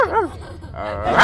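A person imitates a dog barking, with a couple of loud, close yapping woofs in a human voice.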